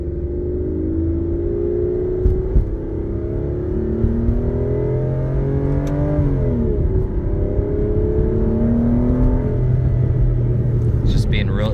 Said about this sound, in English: It's just being real easy on the throttle just so you can kind of get an exhaust note from it.